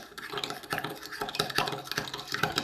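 A spoon stirs semolina crêpe batter for baghrir in a bowl, making quick, close, repeated scraping and clinking strokes in a steady rhythm, with no voices.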